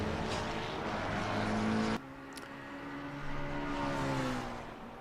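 Race cars lap Monza in a GT Europe racing game, engines whining and revving steadily as cars pass and shift, with a sudden cut to another car partway through and no talk.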